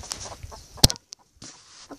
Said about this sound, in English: Come back here, chicken.